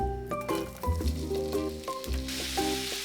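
Chicken gizzards sizzle loudly as they are stir-fried over high heat in garlic-infused oil with a splash of soju, a steady close frying hiss with clinking stirring taps.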